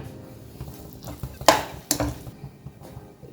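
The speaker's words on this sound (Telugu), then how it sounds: "బాగా మిక్స్ చేయాలి" Spoon scraping and clinking in a pan while rava kesari semolina is stirred with sugar, a few louder metallic scrapes standing out over soft stirring, close and alone.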